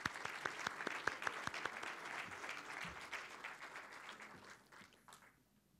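An audience applauding at an event, dense clapping from many hands that rings out steadily, then thins and fades away near the end.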